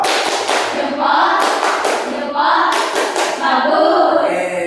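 A group of children clap together in a classroom, the hand claps coming in bursts that fill a steady rhythm, loud and close, with a few voices mixed in.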